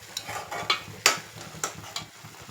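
Onion paste frying in hot oil for a Telugu raw-mango fish curry, stirred in a quick series of scraping strokes over a steady close sizzle, with no talking.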